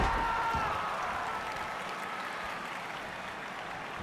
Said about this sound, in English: So weird with the clapping of the crowd.